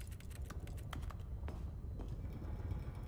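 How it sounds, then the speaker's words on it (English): Keyboard typing in the video game The Stanley Parable: a quiet, steady run of light key clicks with a few sharper strokes, heard alone over a soft background hum. "Why are there keyboard sounds? There's no keyboard!"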